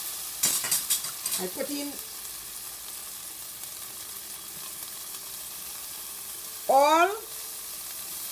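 Saltfish and onion fry in a pot, with clattering stirring and scraping at the start, a quiet low sizzle underneath, and a brief spoken voice near the end.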